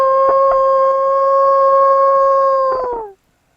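A man imitates a wolf, sustaining one long, loud, steady howl for about three seconds before it bends downward and cuts off into silence.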